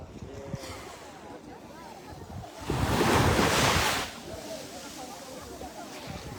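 Sea waves at Ponente beach in Milazzo, in the province of Messina: a soft wash of surf with one louder wave breaking and hissing for about a second, under light wind noise and someone talking.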